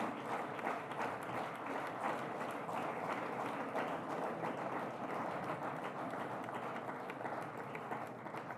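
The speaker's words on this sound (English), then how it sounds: "A more energetic round of applause, ladies and gentlemen" Sustained applause from a large audience at a leadership summit awards ceremony, dense steady clapping that fills the hall throughout without a break.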